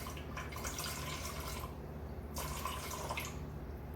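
Water is poured from above into a bowl on a kitchen scale for a pizza sponge, a soft steady trickle with small drips and splashes, quiet and close, no speech.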